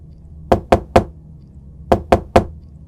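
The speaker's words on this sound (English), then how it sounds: "I found the cleanest area available and knocked." Two sets of three sharp knocks on a door that has long gone unused, crisp and close, with a pause of about a second between the sets.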